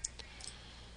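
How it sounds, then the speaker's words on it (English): Two or three light mouse clicks deselecting vertices in 3D modelling software during UVW mapping, quick and close, spaced apart over faint room hiss with no talk. "I need to unselect these just by clicking them once again"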